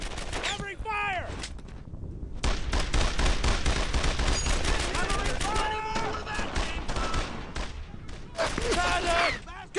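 Dense, loud bursts of rifle and machine-gun fire in the World War II shooter Brothers in Arms: Earned in Blood, rattling almost continuously through a French village battle while voices shout over the shooting.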